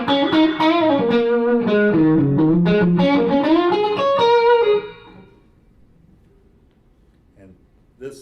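An overdriven electric guitar through a Quilter Tone Block 200 amplifier head with reverb plays a distorted, ringing phrase for about five seconds, then fades to quiet, with a faint pluck at the end.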